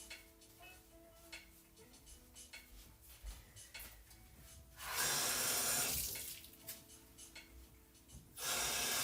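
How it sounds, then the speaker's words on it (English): Tap water runs into a sink to rinse chickpeas, starting after some quiet clinks of dishes and utensils, then a strong steady gush that pauses briefly and resumes, close and loud. "let's rinse the chickpeas"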